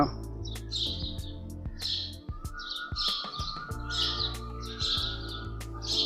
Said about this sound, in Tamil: குருவி கிளி கத்துற சவுண்டெல்லாம் கேட்குது